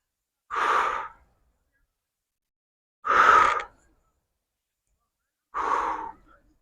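Three sharp, forceful exhalations are spaced about two and a half seconds apart during a morning full-body exercise routine, each a short close breath followed by silence.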